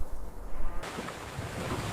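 Ocean waves and wind at sea, a steady loud wash of surf and gusting air that swells sharply partway through and continues as a dense roar, with no voices.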